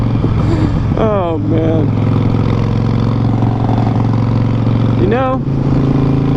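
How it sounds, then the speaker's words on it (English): Harley-Davidson Sportster Roadster motorcycle with short shots exhaust, a steady deep engine rumble running throughout at close range while someone talks over it. "I usually don't like short shots, but I really like what they sound like on this bike."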